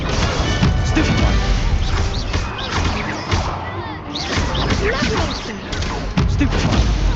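Spell blasts and impacts from the video game Hogwarts Legacy crack and whoosh in a busy, loud sequence, with sharp whip-like strikes and crashing hits layered over game sound throughout.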